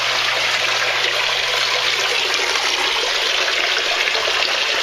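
Water trickling steadily into the tank of a home aquaponics greenhouse system, a constant, even rushing with no breaks, close by and fairly loud.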